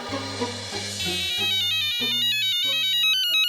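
A phone ringtone plays a repeating electronic melody of steady stepped tones, loud and close, with no talking over it.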